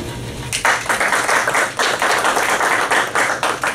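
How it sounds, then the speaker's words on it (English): Audience hand clapping at an ASQ Memphis section presentation, a dense, loud burst of applause that starts abruptly and continues steadily in waves. "First off, give yourselves a hand clap."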